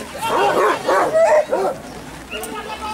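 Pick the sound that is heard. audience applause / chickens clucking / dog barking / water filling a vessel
dog barking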